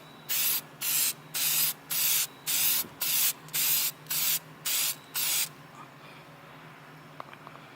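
Ten short, even bursts of aerosol spray hiss in a steady rhythm as the first coat of Meguiar's headlight restoration coating goes onto a car headlight, close and crisp, followed by quiet.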